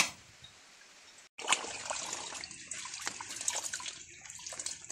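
Water runs from a tap in a rural hillside home, a steady splashing stream that starts abruptly after a brief pause and keeps going, with faint trickles and drips.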